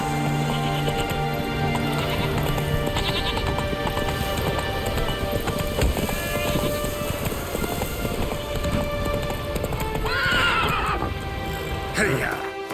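Roach, the horse in The Witcher 3: Wild Hunt, galloping with steady hoof clatter under game music and ambience, with a loud whinny near the end and a voice speaking.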